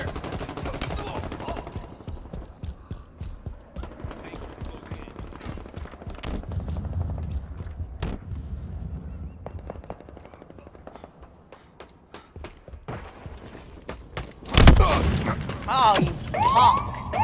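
Automatic gunfire from a Halo Infinite multiplayer match, with rapid bursts of shots crackling through the mix among game effects, then a loud close burst near the end.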